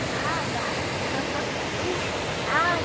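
Constant rushing roar of a waterfall in Campo Alegre, Santa Catarina, dense and unbroken at close range, with brief faint voices over it near the end.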